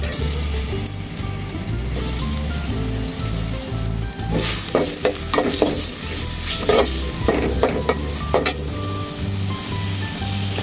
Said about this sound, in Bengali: প্রথমে আমি তেল ঢেলে দিচ্ছি, তারপর দিয়ে দিব পেঁয়াজ।